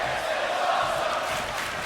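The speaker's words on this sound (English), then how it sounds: "The crowd shouting, "This is awesome!" here in Wheeling, West Virginia" A wrestling arena crowd in Wheeling, West Virginia roars in a sustained, dense chant, a broad wall of many voices filling the hall without a break.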